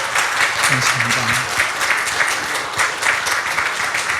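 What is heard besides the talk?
church congregation applauding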